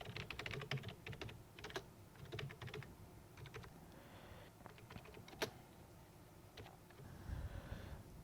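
Quiet, close computer keyboard typing in irregular bursts of key clicks as a print statement is entered, with pauses between runs and no talk.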